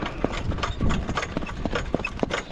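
A couple of horses clip-clopping, with their hoof strikes landing in an uneven rhythm close by over a rumbling outdoor background.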